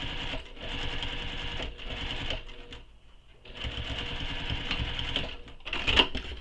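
A sewing machine runs long straight stitches on a crossbody bag, whirring steadily in bursts with a short pause midway, close and clear with no talk.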